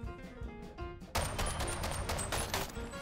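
Gunfire in the VR shooter Bonelab, a loud dense burst of shots kicking in partway through after quieter clatter, continuing as rapid repeated reports close by.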